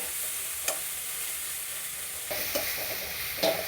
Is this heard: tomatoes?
yes